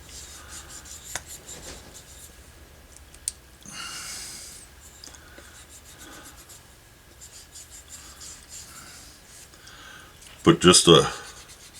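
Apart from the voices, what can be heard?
rubbing glued material down by hand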